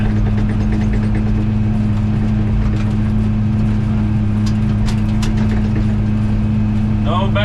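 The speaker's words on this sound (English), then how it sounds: "Oh, this dozer loves fresh dirt." Bulldozer engine droning loudly and steadily while grading fresh dirt on a farm field being stripped for a house site, with clanks and a person talking over it.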